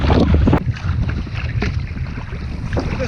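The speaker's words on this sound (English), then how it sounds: "But it is wind against tide, so it's splashy here." Water slapping and splashing against a small boat at sea with wind against tide, a loud continuous churn of chop and gusting wind noise close to the microphone.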